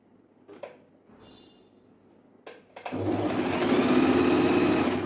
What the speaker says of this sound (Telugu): ఇలా పెట్టేసుకొని ఫస్ట్ ఇలా స్టిచ్ అనేది వేసేసుకుందాం